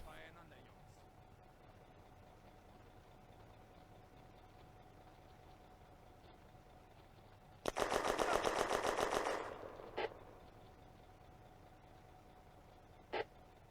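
A single loud burst of machine gun fire lasting under two seconds in the WWII game Firefight Ost Front, rising out of a quiet ambient hum, followed by two lone distant cracks.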